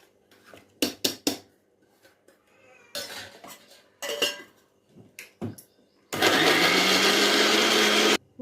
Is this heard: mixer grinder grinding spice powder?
yes